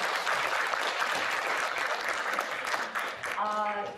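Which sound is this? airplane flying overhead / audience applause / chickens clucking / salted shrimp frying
audience applause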